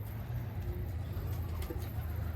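Pigeons coo softly within a flock outdoors, a low, faint murmuring call set against steady background rumble and occasional light rustles.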